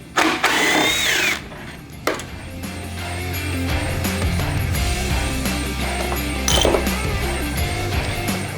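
A small impact wrench whirs and rattles in short bursts near the start, then a steady mechanical hum carries on as bolts are removed from a car radio head unit.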